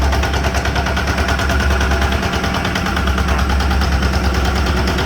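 A 7-horsepower Yanmar SS70 diesel tiller engine chugs loudly and steadily close by, with a rapid, rough knocking rhythm that never lets up.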